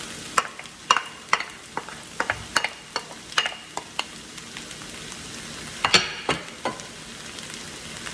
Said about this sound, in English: Now you want to go ahead and stir all this together